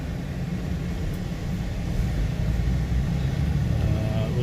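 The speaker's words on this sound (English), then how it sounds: "a little bit of traffic noise" Steady low traffic rumble heard from the front of a house on a residential street in Lebanon, Tennessee, continuous and moderately loud with no distinct passing vehicle.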